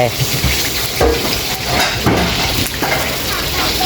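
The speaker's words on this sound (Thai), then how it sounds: "ทอดปลา ก็ลงกระทะไป" Loud, steady sizzling of fish frying in hot oil in a pan fills the clip, with stirring and utensil clinks on top.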